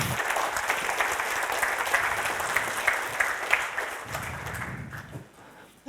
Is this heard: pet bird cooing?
no